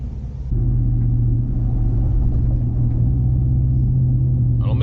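Deep, steady exhaust rumble from a GMC Sierra Denali pickup with its muffler deleted, idling loud and close in traffic, a sharp step up in level after the first half second, then a constant throaty drone with no talk.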